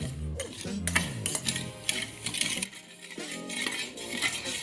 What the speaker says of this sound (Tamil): இப்போ இதை நல்லா கிண்டிக்கலாம்.